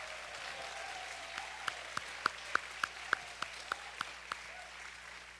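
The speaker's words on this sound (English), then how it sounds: "give them a big round of applause" At a Texas Senate candidate forum, a crowd applauds for veterans from a distance in a soft, steady patter, while a few nearer sharp claps stand out in a quick regular beat.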